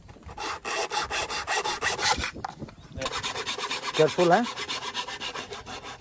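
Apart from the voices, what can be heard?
sawing bamboo by hand for Ravanatta instrument body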